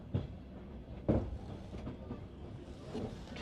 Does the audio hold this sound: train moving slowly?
yes